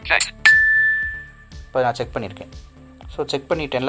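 A talking clock app sounds a single bright chime that rings out and slowly decays, heard right after a brief tap, with someone talking before and after it.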